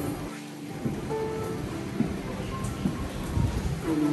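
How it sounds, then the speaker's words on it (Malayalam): Rain falls outdoors in London, a steady wash of drops heard alongside traffic-like rumble and faint background sounds. "വീണ്ടും മഴയാണ്."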